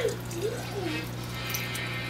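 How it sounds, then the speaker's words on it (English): Water being poured into a cooking pot in a home kitchen, a steady splashing stream with gurgling shifts, close and continuous over a constant background hum, with no voices. "So we're going to go ahead and add some water."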